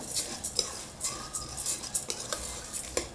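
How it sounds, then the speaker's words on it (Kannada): Moong dal frying in ghee in a pan for kheer, with a utensil stirring steadily, scraping and clinking against the metal over a soft background sizzle, close and moderately quiet, no talking. "ತುಪ್ಪ ಹಾಕೊಂಡ್ಮೇಲೆ ತೊಳ್ದು ಮೂರಿಂದ ನಾಲ್ಕು ಸತಿ ತೊಳೆದಿಟ್ಕೊಂಡಿರೋ ಬೇಳೆನ ಹಾಕೋತಾ ಇದ್ದೀನಿ ಹಸಿ ವಾಸನೆ ಹೋಗಂಟ ಸ್ವಲ್ಪ ಫ್ರೈ ಮಾಡ್ಕೊಬೇಕು"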